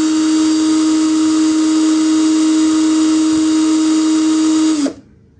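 A SOKIN 21V brushed cordless drill whirs steadily at its lowest speed setting, a close, loud, constant motor whine that runs alone for about five seconds before cutting off abruptly.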